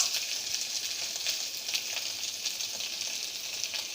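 Potatoes for jeera aloo sizzle steadily in hot oil in a pan, a continuous close crackling hiss with small popping bursts and no talk.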